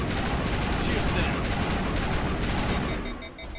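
Continuous gunfire in the Mass Effect video game, dense rapid bursts of shots filling the clip loudly and easing slightly at the end.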